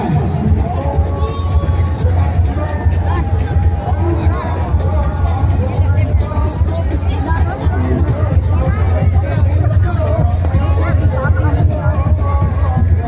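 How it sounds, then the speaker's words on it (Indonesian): A dense crowd at an Eid al-Fitr takbiran parade in Indonesia, a loud continuous hubbub of voices and shouting that may carry the takbir chant, with a steady low rumble underneath. "Suara takbirnya, suara takbirnya."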